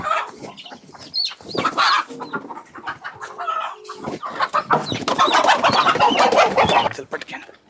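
A rooster clucks and squawks in agitated bursts close by, while people talk over and between the calls.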